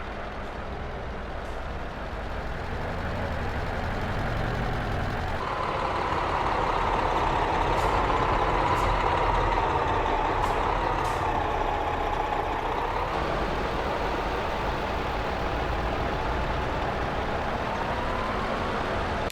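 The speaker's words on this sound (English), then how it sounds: "Traffic sounds better than ever. Different vehicles feel more alive" Trucks and passing traffic in Euro Truck Simulator 2, a steady engine drone with a swelling pass-by in the middle and a few short hissing bursts like air brakes, no talk over it.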